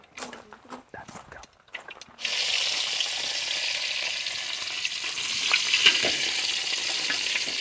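Mustard seeds and curry leaves hit hot oil for a sweet Kerala sadya pachadi, bursting into a loud, sustained sizzle with scattered pops after a few quiet clatters at the start.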